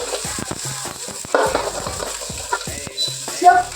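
Chopped onion dropped into hot oil in a pan, crackling and sizzling with scraping stirs and a few sharp clinks of a utensil, close up.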